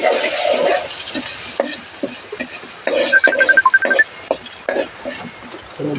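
Garlic sizzles softly in a pan as it is stirred, with scraping strokes and a brief electronic beeping tone partway through.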